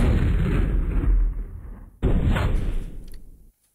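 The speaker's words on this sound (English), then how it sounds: "Police airstrike." Police airstrike attack in the MechQuest browser game: two heavy booming blasts, the first rumbling and fading over about a second, then a second sharp impact that decays before cutting to silence.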